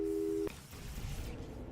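Steady electronic phone busy tone in the video game Portal 2, sounding briefly and then cutting off abruptly, followed by a soft background hum.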